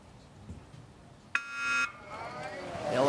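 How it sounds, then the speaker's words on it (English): Electronic start beep at a rowing final for under-23 men's coxed fours: one clear, loud harmonic tone lasting about half a second, followed by rising crowd and water noise. "The electronic beep, it goes off."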